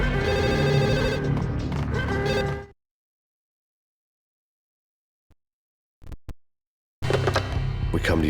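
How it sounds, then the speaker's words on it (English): In the Max Payne video game, a telephone rings in short bursts between stretches of silence, with louder game sounds at the start and end of the clip. "There's a phone."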